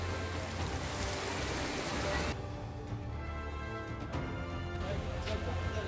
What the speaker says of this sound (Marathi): नाशिकमध्ये तुफान पाऊस, त्र्यंबकेश्वर मंदिरात पाणी